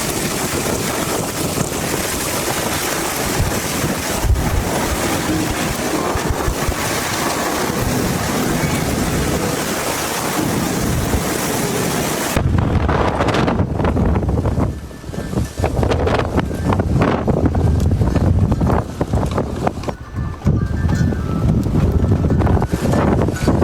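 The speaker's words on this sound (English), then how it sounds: "Massive dust storm starting." Strong wind from a massive dust storm beginning, a loud, continuous roar with heavy buffeting and gusting that grows rougher and more turbulent partway through.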